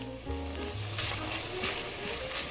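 Minced meat (qeema) sizzles steadily in a pan over medium-high heat, a continuous close frying hiss with light stirring scrapes and no voices.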